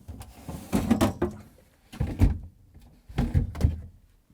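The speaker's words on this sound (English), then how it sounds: "Let's remove the drawers." Drawers being pulled out of a Samsung refrigerator's fresh food compartment: three separate bursts of thumps, scrapes and plastic clatter, close and moderately loud, separated by short quiet gaps, with no talking.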